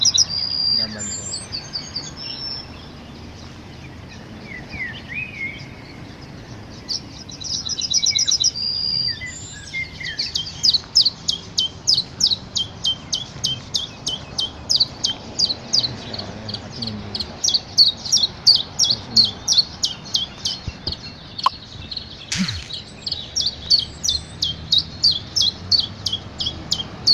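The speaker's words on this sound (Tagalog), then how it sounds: "Yan, bird na yan." Several birds sing in the morning outdoors, with repeated rhythmic chirps and trills at steady moderate loudness through most of the stretch, joined by occasional other calls and a faint voice talking in the background.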